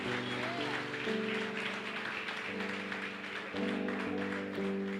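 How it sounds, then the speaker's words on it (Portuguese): A church congregation applauding at a service welcoming visitors, steady clapping under sustained music and background voices. "pode aplaudir, meu irmão."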